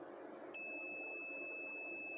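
A continuous high-pitched multimeter continuity beep from testing a transistor in a Q-Power MAX II 8000 starts abruptly and holds steadily, thin and fairly quiet.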